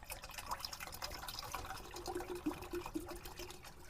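Bottled water being poured inside a converted box truck while boondocking, a soft steady trickle with small bubbling glugs and drips, close and fairly quiet.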